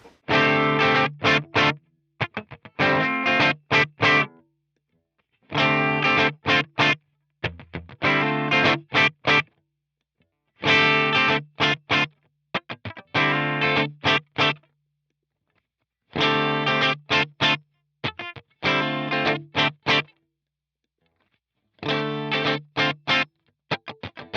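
Short strummed phrases from a Fender Deluxe Roadhouse Stratocaster cycling through preamp selections, with a processed, slightly overdriven tone, played in bursts separated by brief pauses as the sound character changes.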